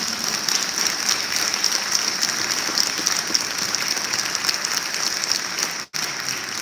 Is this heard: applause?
yes